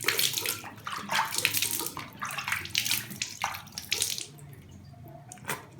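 Running water splashes steadily as eyebrow treatment is washed off at a tap, a close, moderately quiet rush with uneven bursts that fades toward the end.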